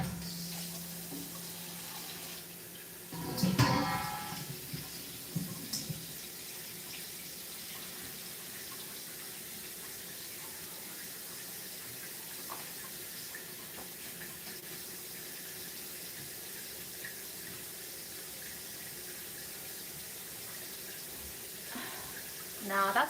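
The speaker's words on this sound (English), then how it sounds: "Now that's a lot of water for the sink, but we're just putting it in my vegetable basin." Water from a kitchen tap runs steadily into a vegetable basin set in the sink, a soft continuous splashing rush that carries on for about twenty seconds with a few louder clatters and knocks near the start and end.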